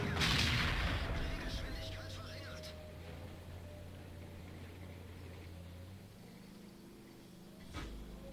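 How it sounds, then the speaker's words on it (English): Artillery fire strikes a Leopard 1 tank in a video game: a loud boom at the start that rumbles and fades over several seconds, with a lighter thud near the end. "I get finished off by artillery."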